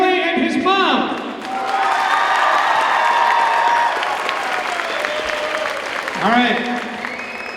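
Crowd at a 2019 high school pep rally bursts into sustained applause and cheering with scattered whoops, loud and close, after a brief spoken line from an announcer on a microphone.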